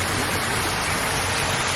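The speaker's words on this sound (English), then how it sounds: "That is our lovely waterfall." A garden waterfall gives a steady, dense rush of falling water, continuous and fairly close, with no breaks or voices over it.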